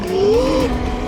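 A KOOZ HP131E 72V electric bike with a direct-drive motor accelerating, giving a rising whine that climbs steadily in pitch over a steady rushing background, loud and close with no talking.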